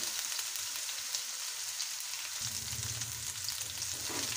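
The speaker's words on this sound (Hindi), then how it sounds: "इसको हम 2 से 3 मिनट अच्छी तरह हम इसको फ्राई कर लेंगे।" Garlic, ginger and green onion paste frying in a pan, a steady soft sizzle with faint stirring, and a low bubbling hum rising partway through, heard alone.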